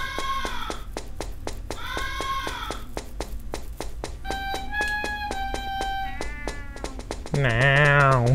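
Cat meowing in the video game Chu-Lip: a string of stylised, tuneful meows repeating over a steady rhythmic game soundtrack, with a louder, wavering cry at the end.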